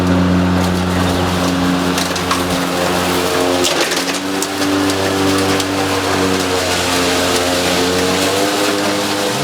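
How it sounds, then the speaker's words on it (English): A Ryobi 40V brushless 20-inch electric push lawn mower mulches grass strewn with sticks and debris, its steady loud motor hum droning throughout with scattered crackles and ticks of cut material. "We're going to go ahead and start with the mulching on this side, and we'll see how well the mulching part of this mower performs."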